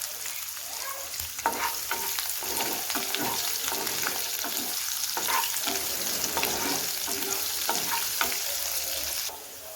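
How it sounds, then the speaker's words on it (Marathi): Cumin seeds, curry leaves and green chilies fry in hot oil for kande pohe, giving a steady loud sizzle with scattered pops and crackles and occasional stirring scrapes throughout. "जिरं कढीपत्ता आणि मिरच्या टाकून घेऊया"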